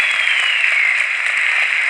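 Steady, dense applause from a crowd, loud and unbroken throughout, with no voices rising above it.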